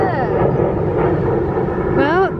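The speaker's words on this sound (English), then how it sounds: "Another plane going overhead." An airplane passing overhead, a steady broad engine roar that fills the background while a voice talks over it throughout.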